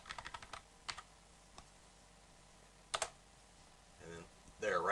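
Someone types a terminal command on a computer keyboard: a quick burst of key clicks, then scattered single taps and a sharper double click, with a voice starting to speak near the end.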